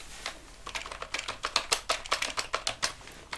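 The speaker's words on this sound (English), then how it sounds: "Let me type that in." Fast, steady typing on a computer keyboard during a calm cranial nerve exam, a dense run of crisp close-up key clicks with no voices.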